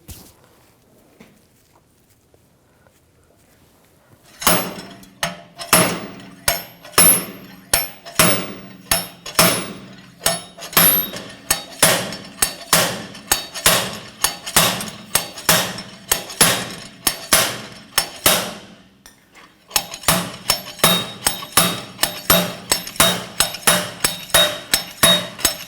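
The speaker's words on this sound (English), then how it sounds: "We're going to use a slide hammer." A slide hammer knocking a rear wheel hub off its bearing on a 2007-2013 BMW X5, sharp metallic clanks in a steady repeated rhythm after a quiet start, close and loud, with no talk.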